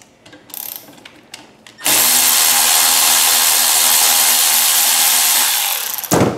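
A power tool with an E8 socket spins out a bolt on a BMW N20 engine during valve spring work. A few light handling clicks come first, then a loud, steady whir runs for about four seconds before cutting off.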